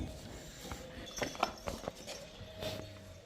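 Hooves of a Jersey dairy cow walking on a farm: a handful of uneven, moderately close steps over steady outdoor background noise.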